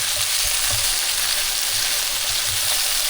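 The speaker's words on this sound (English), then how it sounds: "we're going to start cooking up our sauce with the butter and salt and pepper that we already have in here" Butter with salt and pepper sizzles steadily in a hot pan used for chicken, a loud continuous frying hiss with faint stirring bumps, no voices over it.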